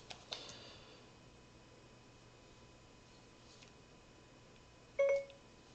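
Quiet room with a couple of faint clicks near the start, then a short, clear electronic beep from a timer button pressed close by near the end, while brewing coffee outdoors.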